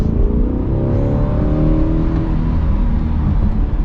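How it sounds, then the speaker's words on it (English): A 2025 Chevy Corvette Z51's 6.2-liter V8 roars steadily as it accelerates, its deep tone rising in pitch, loud and close throughout. "So here's an acceleration."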